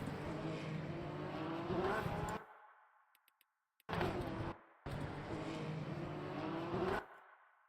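Porsche race car in the Le Mans Ultimate racing game, engine revving loud and close with a whining, rising pitch, cutting out abruptly twice in short silent gaps before roaring back.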